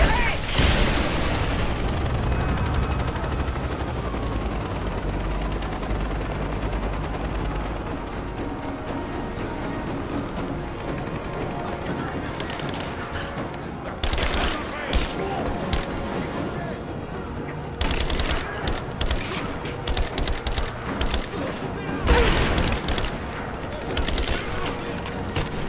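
Gunfire and explosions in the video game Rise of the Tomb Raider, with loud bursts and booms over a busy game soundtrack and French-speaking voices at times.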